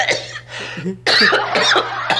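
Several harsh coughs come in quick bursts, close and loud, with a short pause before a final cluster of coughing.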